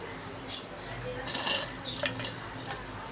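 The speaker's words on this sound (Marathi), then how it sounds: "आता आपण त्याच्यात तळलेले बटाटे घालायचे।" Fried potatoes tipped into kanda poha in a pan, giving a few quiet metallic clinks and scrapes of a spoon against the pan, close and faint, with no talking.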